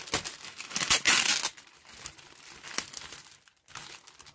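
Plastic parts bag from an Eduard 1/48 Lysander Mk III model kit crinkles and crackles up close in several rustling bursts, loudest early on, then softer handling with brief pauses.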